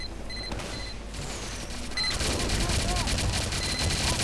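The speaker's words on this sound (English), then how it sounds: "A couple of sentries are firing away, using up their ammo quantities quite heavily there." Sentry guns firing in a team-based shooter game, a rapid dense stream of shots that turns louder and more continuous partway through, under a busy game soundscape.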